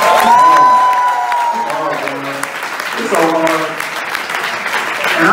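Comedy club audience at a stand-up show applauding and cheering, a loud burst of clapping and whoops that fades and then swells again while someone talks over it.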